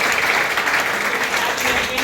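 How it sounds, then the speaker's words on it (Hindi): An audience applauds at a girls' honour ceremony marking Devi Ahilyabai Holkar's tricentenary, giving steady, dense clapping that fills the short stretch, with a voice speaking over it. "के लिए एक बार जोरदार तालियां"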